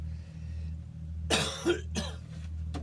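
A person coughs close up, two harsh rough bursts followed by a softer third and a short catch, over a steady low hum with no talking.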